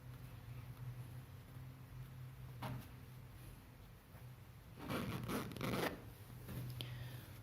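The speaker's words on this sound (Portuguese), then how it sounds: "E aí eu vou fechar o zíper e ver se encontrou bem certinho." A zipper is drawn closed on a hand-sewn skirt, giving a quiet short rasp early on and then a longer scratchy pull, faint and close over a low room hum.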